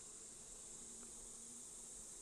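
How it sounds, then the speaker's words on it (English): A big drone bee buzzes faintly inside a beehive, a thin steady hum over constant hive noise with no talking. "Big drone bee."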